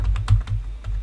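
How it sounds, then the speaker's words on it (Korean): Keys clatter on a computer keyboard during a Java programming lesson, several distinct close taps in quick irregular succession, heard alone without talk. "자, 그러면 똑같이 키보드를 이용해서"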